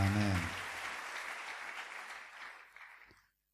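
Church congregation applauding, a dense burst of clapping that begins loud with a brief voice at the start, then slowly thins and fades out.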